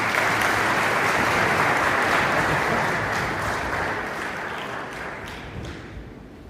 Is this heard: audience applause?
yes